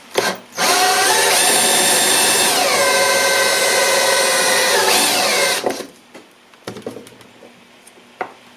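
A power drill with a step bit bores a hole while building a wire dipole antenna, a loud continuous whine lasting several seconds with the pitch shifting as the bit steps up, then cutting off to quieter handling noises.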